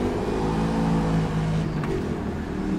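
Engine of a stock Panoz Roadster in the racing simulator rFactor 2, a steady, fairly subdued hum with sustained tonal harmonics as the car drives, no talking.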